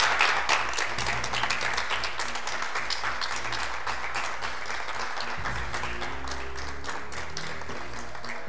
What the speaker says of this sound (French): Monsieur Salfo Soré Diapresse, applaudissements pour lui.